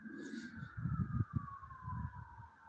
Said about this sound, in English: That noise, sirens.